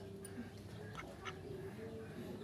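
Domestic ducks kept as pets quack faintly amid a noisy outdoor background, a few short calls in quick succession at a distance.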